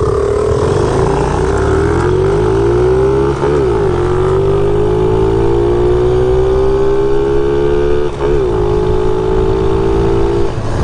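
Two dirt bikes, a Suzuki DRZ400 and a Magician 250, accelerate hard side by side from a race start, their loud engines climbing in pitch through gear changes on a fall trail ride.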